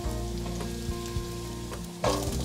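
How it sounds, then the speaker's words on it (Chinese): Carrots stir-fried in oil in a wok sizzle steadily up close, with a few soft stirring scrapes and a louder burst near the end, no talking. "锅内放入适量的油，把红萝卜放进来炒香。"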